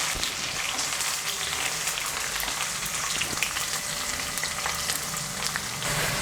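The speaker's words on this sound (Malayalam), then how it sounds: "നമ്മൾ ആദ്യം എടുത്തു വെച്ചിരിക്കുന്ന ഇഞ്ചിയും വെളുത്തുള്ളിയും അരിഞ്ഞതാണ് അത് ചേർത്ത് കൊടുക്കുവാണ് നല്ലതുപോലെ ഒന്ന് ഇളക്കി കൊടുക്കാം" Chopped ginger and garlic frying in oil for a gooseberry pickle, a dense crackling sizzle like rain on a surface with occasional stirring clicks, steady and close, no talking.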